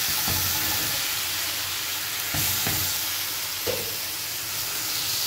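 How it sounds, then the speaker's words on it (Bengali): Boiled carp roe with green chillies sizzles steadily in hot oil in a pan, a dense continuous frying hiss with a few brief stirring scrapes and pops. "এবার দিয়ে দিলাম কার্পু মাছের ডিম।"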